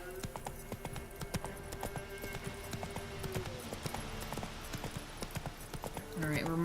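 Roach, the horse in The Witcher 3, gallops in a steady, even rhythm of hoofbeats that carries on throughout, with game ambience and a voice talking over the hooves.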